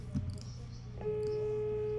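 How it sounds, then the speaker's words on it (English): Phone call tone during an outgoing call: a faint electronic beep sounds, then a steady, thin single-pitch tone holds for about a second with quiet background noise. "Just trying to phone."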